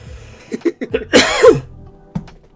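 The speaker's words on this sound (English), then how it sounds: "No, I coughed, not sneezed." A loud, close cough: a few sharp hacks, then a harsher rasping burst, and one last short cough after a pause.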